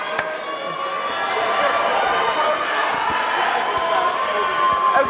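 Basketball arena crowd roaring and cheering steadily for a hometown player, a dense sustained wash of voices with occasional sharp bangs and shoe squeaks mixed in.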